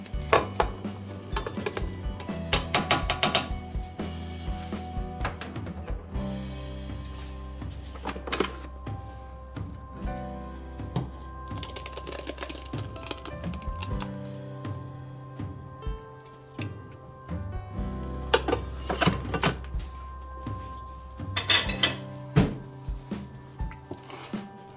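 Spätzle and mushroom ragout are scraped and stirred together in a Thermomix TM6 pot, bursts of clattering, scraping spoon knocks against the bowl separated by quieter stretches, near and fairly soft.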